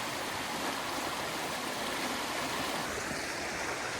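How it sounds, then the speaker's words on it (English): A rain-swollen river in rural Bosnia rushing steadily, a dense, continuous broadband roar of flowing water with no voices, close and even throughout. "You can see the rivers are full from the rain."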